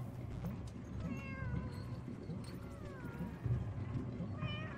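Repeated meows from a group of cats in a video game, wavering cries coming one after another over constant background game noise, with no voices.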